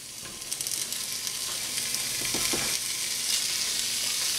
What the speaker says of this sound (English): Guys, I'm heating up a cast iron. we're going to get this bacon going here.